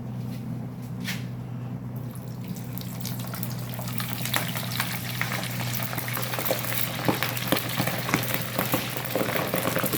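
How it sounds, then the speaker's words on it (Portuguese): Pork rinds (torresmo) made from ordinary pork fatback frying in a pan of hot fat, a steady dense crackle and sizzle with busy popping spatters that grow livelier over time, close and continuous with no talking. "quando eu jogar na gordura, eu vou mostrar jogando na gordura"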